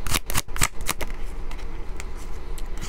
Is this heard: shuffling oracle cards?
yes